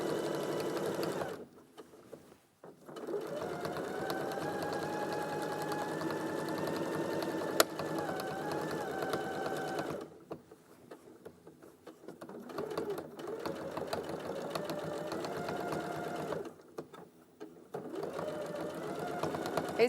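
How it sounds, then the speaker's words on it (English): A sewing machine stitches a skirt along a tacking line, humming steadily in long runs that stop and restart, quietly and close by, with a single faint click partway through. "So now I've got it all pinned on, we are just stitching that in place."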